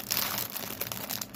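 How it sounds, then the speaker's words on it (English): Plastic packaging crinkles continuously at close range as cross stitch kits from an AliExpress order are unbagged, a busy rustling texture with no talking. "I hear more crinkling"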